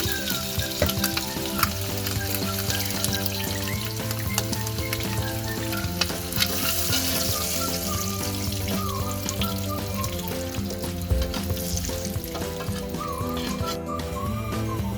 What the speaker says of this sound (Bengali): ডিমটা খুব সুন্দরভাবে ভাজা হয়ে গিয়েছে।